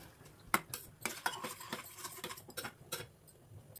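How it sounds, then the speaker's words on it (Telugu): Moong dal payasam with jaggery water is stirred in a pot over a low flame, a soft run of close scraping strokes and light spoon clinks, fairly faint and alone. "ఇప్పుడు అంతా బాగా కలిసేలాగా కలుపుకొని"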